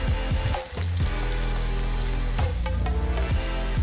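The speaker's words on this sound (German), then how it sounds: "Zwiebeln einfach schön glasig erst einmal anbraten" Chopped onions fry in a pot for a Spanish farmhouse Kesselfleisch stew, a steady, dense sizzle with crackling bursts that runs continuously at moderate loudness with no talking.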